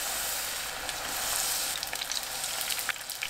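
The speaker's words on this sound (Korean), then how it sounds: "양미리 넣고 중불로 노릇하게 튀겨내세요." Batter-coated sand lance fish crackles and sizzles in hot oil over medium heat, a steady bubbling hiss with small popping spatters growing more frequent.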